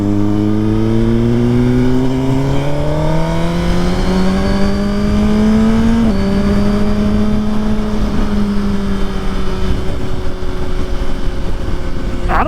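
A Suzuki GSX-R 1000 sportbike engine braking, its loud, close engine note dropping and rising in pitch as the revs change steadily over several seconds, with no talking.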